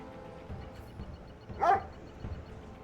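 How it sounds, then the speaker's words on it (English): A single short attack-dog bark from Command & Conquer: Red Alert 3 stands out over a low hum of game background noise. It arrives as one brief burst near the middle of the clip, with fainter bits of game sound around it. "Oh no, not attack dogs."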